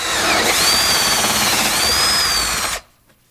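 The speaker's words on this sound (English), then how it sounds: "First thing I need to do is drill a hole in the back of the cabinet." A power drill bores a hole through the back of a wooden cabinet, a loud, steady high whine held close for under three seconds before stopping abruptly.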